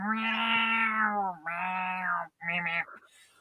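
Melody the cat meows in two long, loud, drawn-out cries close by, followed by a shorter broken meow and a soft trailing murmur.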